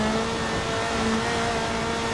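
Rally car engine in Dirt Rally heard from an outside view on tarmac, a steady loud drone with a constant engine tone throughout, no talking.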